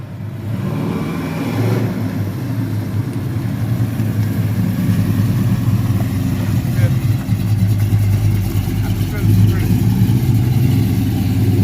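A 1974 Chevy Caprice engine rumbles through its exhaust, revving and holding a deep, throaty roar that builds louder over several seconds, with people talking over the noise.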